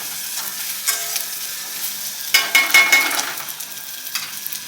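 Onion, ginger, garlic and tomato frying in a little oil for pabda fish curry, with a close sizzle and bursts of louder crackling as the pan is stirred.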